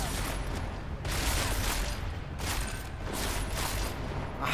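Rapid bursts of gunfire with a sniper rifle in the action game Deus Ex: Mankind Divided, dense loud shots pulsing in waves over a low rumbling background.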